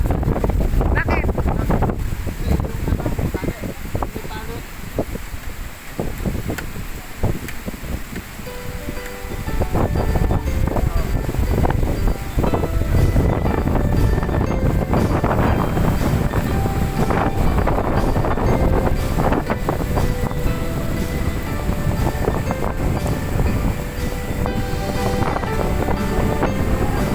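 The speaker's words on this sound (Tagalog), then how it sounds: "Lakas ng hangin." Strong wind buffets the microphone during a long boat ride, a loud continuous roar with gusty surges and splashing water underneath, and faint voices now and then.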